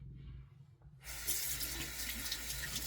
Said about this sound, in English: just gonna rinse off our hands